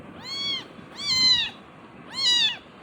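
A cat meows three times in a row, each call drawn-out and clear with short pauses between, fairly close and loud against a quiet background.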